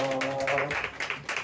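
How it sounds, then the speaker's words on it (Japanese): An audience breaks into applause at a World Cafe event. Scattered claps rise as an earlier tonal sound fades out, growing into a fuller burst of clapping near the end. "拍手でお願いします。"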